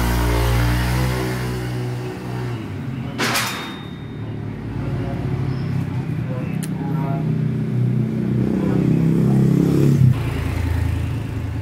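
Honda Vario Techno 125 scooter engine, freshly tuned, revving up close: a loud, rough rumble that surges and falls across repeated throttle blips, with brief mechanical clicks.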